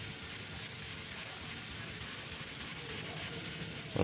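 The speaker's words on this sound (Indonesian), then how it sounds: "Untuk amplas 360 akan kita amplas sampai baret-baret 240 hilang ya." Close, steady scraping of 360-grit sandpaper rubbing back and forth over hardened car body filler in quick, even strokes.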